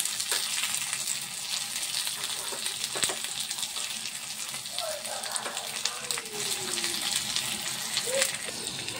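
Garlic roasting in a small amount of oil in a pan, a steady, gentle hiss and sizzle that carries on throughout at close range, with faint background sounds layered over it.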